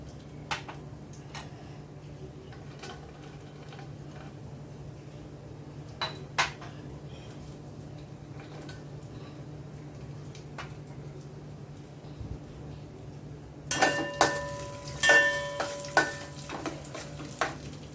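Dry fruits sautéing in ghee in a pot, a low quiet sizzle with scattered soft clicks, then a cluster of louder metallic scrapes and clinks of a spoon against the pot near the end.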